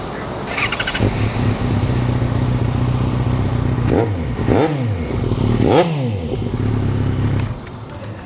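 Yamaha XJ6 inline-four motorcycle with an exhaust-strip-on pipe, idling steadily then blipped through three sharp rising-and-falling revs, loud and close, with no talk over it.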